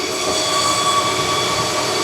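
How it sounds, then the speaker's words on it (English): Cooling fans on a crypto mining rig make a steady, loud whirring roar with sustained tonal hum, running evenly for the whole stretch with no voices. "those fans are so loud"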